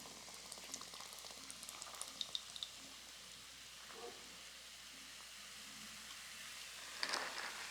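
Lime sparkling water fizzes in a huge cup with a faint, close, steady crackle of bubbles, busier at first and then thinning, with a brief louder burst near the end.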